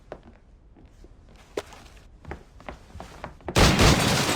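Scattered shots and sharp impacts crack unevenly through a quiet stretch of the stealth-action game Assassin's Creed: Rogue, then a loud sustained blast of noise takes over near the end.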